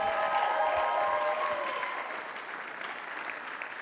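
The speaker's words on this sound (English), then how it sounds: "Let's give them all one big round of applause." An audience at a charity gala applauds children's hospitals. The clapping is full and steady at first and then gradually fades, with music tones ringing underneath.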